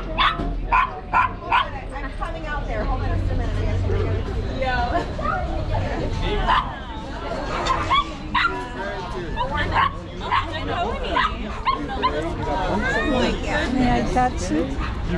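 A Great Dane bigger than a pony barks and whimpers in short bursts amid a busy street crowd, with people chatting and babbling around it throughout.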